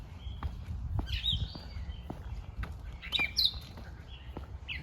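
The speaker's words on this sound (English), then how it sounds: "Listening to the birds." Birds chirp and trill in bursts during a morning walk among green trees, fairly faint against a low outdoor rumble, with soft scattered taps that may be footsteps.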